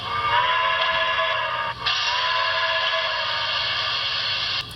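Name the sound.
HO scale Broadway Limited K4s model locomotive second whistle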